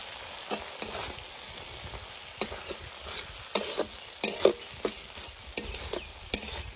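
A ground paste of green chili, dried chili and black pepper fried over low heat, a soft steady sizzle punctuated by frequent scraping and knocking strokes of a spatula in the pan, close and without speech.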